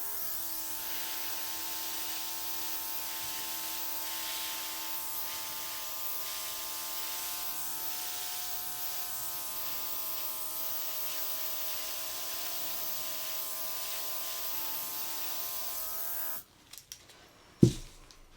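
An airbrush sprays pearl paint with a steady, faint hiss and a faint constant whine, running alone for a long stretch before cutting off, followed by a few brief bumps and a sharp knock near the end.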